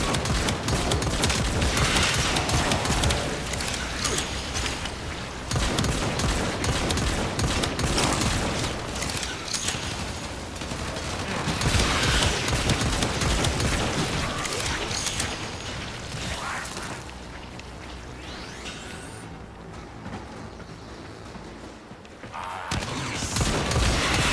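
Dense, continuous turret gunfire and mechanical clatter in Warframe, a loud sustained barrage with rattling, grinding layers that ease off briefly near the end before resuming.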